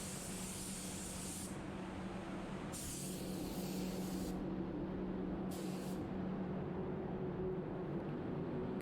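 A spray gun lays clear coat onto a car being painted black, a steady close hiss running throughout with brief bursts of brighter spray as the trigger pulses, no talking.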